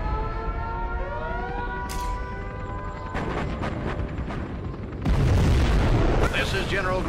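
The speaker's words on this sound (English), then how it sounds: "We have launched our nuclear missile." A nuclear missile launches in Command & Conquer Generals Zero Hour: tonal alarm-like sweeps lead into a rumbling build, then a loud, roaring blast surges in and holds to the end.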